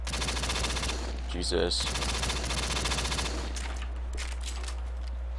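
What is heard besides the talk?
gunfire in Black Ops 3 zombies video game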